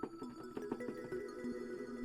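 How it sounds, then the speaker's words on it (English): A Serum pluck synth preset plays a quick run of short, mellow plucked notes in a steady rhythm. The level is quiet and there is no talking. "And then over here, this is a pluck preset from Serum."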